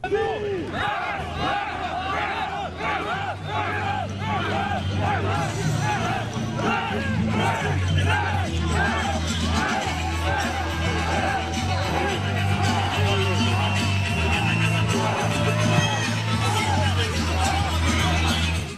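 A festival crowd at a Cossack competition of wall-on-wall fights keeps up steady cheering, whooping and shouting the whole time. The loud, dense roar of many voices runs throughout, with some talk mixed in.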